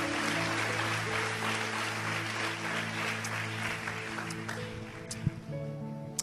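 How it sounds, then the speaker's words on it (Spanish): A church congregation applauds at a Sunday service in Mexico, a steady, dense wash of clapping that carries on for several seconds under a faint drone, then thins out toward the end with a few scattered louder claps. "Dele un aplauso fuerte a ese Señor bueno que tenemos."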